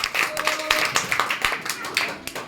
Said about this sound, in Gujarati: ચલો જોરદાર તાળીઓ ત્રણેય જણા માટે પાડ દો